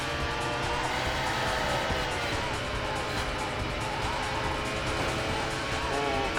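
Renault Alpine GT race cars in the arcade racer Scud Race (Sega Super GT) give a continuous, loud, rising and falling engine drone with no break.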